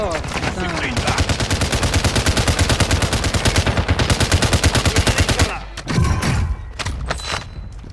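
Rapid automatic gunfire in the shooter game Call of Duty Modern Warfare II, a long loud burst of evenly spaced shots followed by a few scattered bangs and thuds, with players talking.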